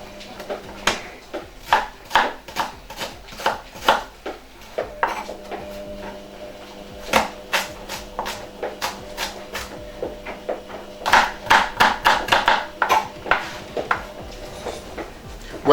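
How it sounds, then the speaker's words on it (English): A knife slices onions on a cutting board for akara bean cakes, giving sharp, irregular taps in quick clusters up close, with a person speaking between the cuts. "Yeah, I'm going to slice my onions."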